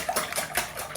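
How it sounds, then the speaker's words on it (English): Cake batter for a chocolate cake, with vanilla essence and vegetable oil, being whisked in a bowl, giving a quick run of rhythmic scraping strokes close by with no voices. "Whisk."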